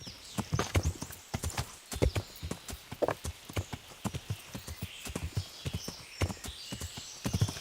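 Horse hooves clip-clop in a steady rhythmic trot in the medieval game Kingdom Come: Deliverance, sharp close footfalls with an occasional faint whinny and no talking.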